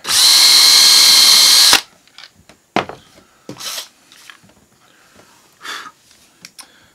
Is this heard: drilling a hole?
yes